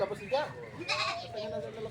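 A goat bleats several times nearby during a countryside vacation in Ilocos Sur, the wavering cries overlapping with people talking.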